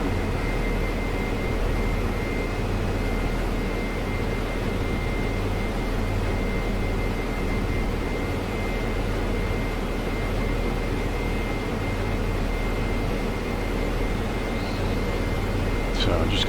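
An airliner descending to land at Adelaide in the Prepar3D flight simulator gives a steady, even engine drone with a constant hum and airy hiss, unbroken throughout.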